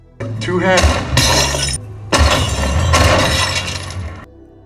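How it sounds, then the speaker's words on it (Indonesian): Glass bottles shatter from gunshots in a film scene, two loud bursts of breaking glass with tinkling debris, set among dense soundtrack noise. "Kemudian Thomas meminta Julian untuk mencoba menembak botol dan inilah hasilnya."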